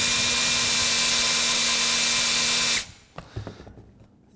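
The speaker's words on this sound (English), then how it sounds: "Now, using a chamfer bit, and this is just your regular woodworking chamfer bit." A drill fitted with an ordinary woodworking chamfer bit whirs loudly and steadily while chamfering a screw hole in a wooden router bit storage case, then spins down and stops, leaving faint scrapes and handling noises.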